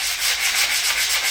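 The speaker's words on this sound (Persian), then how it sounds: "بریم سراغ سنباده." Sandpaper rubs back and forth over a surface in quick, steady strokes, a close, loud, rhythmic scratching with no voices.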